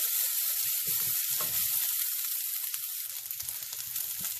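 Spices fry and brown in a hot pan, a loud continuous sizzle with light scraping and stirring scattered through it.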